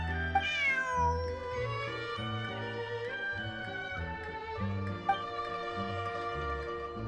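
A cat meowing in Genshin Impact, several clear, close meows set over soft background game music, with no talking.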